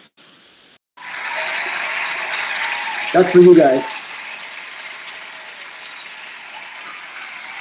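An audience gathered in a private house applauds, a steady wash of clapping that starts abruptly and holds at moderate level, with a brief louder burst partway through and a short spoken line over it.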